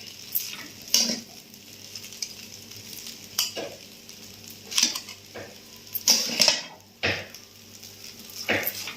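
Home-cooked noodles frying in a pan, stirred with a metal utensil that scrapes and clinks against the pan every second or so over a soft, steady sizzle, close by and without talk.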